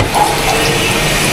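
Water runs loudly from a kitchen tap in a home where the water supply had just come back, a close steady gushing stream with no break, heard alone.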